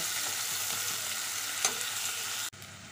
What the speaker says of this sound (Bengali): দিচ্ছি পেঁয়াজ কুচি। পেঁয়াজটাকে হালকা ভেজে নেব